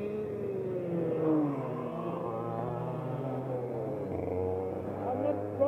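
A classic racing kart engine revs steadily during a 2018 classic kart weekend, its buzzing drone rising and falling in pitch beneath people talking nearby.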